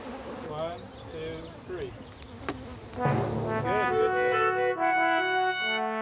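Bees buzzing in a steady insect drone under someone talking, later joined by sustained tonal humming as the swarm continues nearby.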